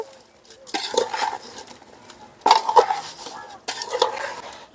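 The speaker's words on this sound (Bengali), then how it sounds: "এখন মশলার সঙ্গে আমগুলোকে মিক্স করে নেব ভালো করে করতে হবে মিক্সটা" Spoon and pot clatter as mango pieces are mixed with spices and oil for mango pickle. Irregular scraping strokes and clinks come close up in three or four bursts, with quieter pauses between them.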